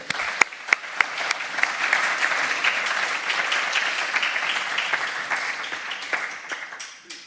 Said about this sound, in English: So, if you could all join me with a little round of applause, and please welcome Dr. Miles Kempton.